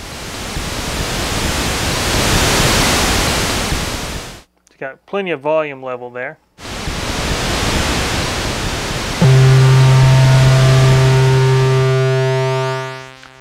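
A Multimoog analog synthesizer's noise source produces loud hissing that fills the air, breaks for a short spoken remark, then returns, joined by a steady buzzing synth tone before fading out.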